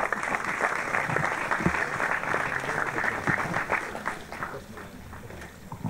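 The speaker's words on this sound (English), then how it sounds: "a warm applause for Mr. Jürgen Lippikoff" Steady applause from an audience at an airline awards ceremony, a dense, continuous wash of clapping that holds for several seconds at moderate distance.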